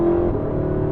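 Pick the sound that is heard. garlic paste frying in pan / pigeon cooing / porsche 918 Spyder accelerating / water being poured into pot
porsche 918 Spyder accelerating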